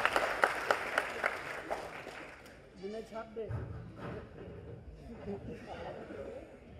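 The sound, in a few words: audience applause welcoming a speaker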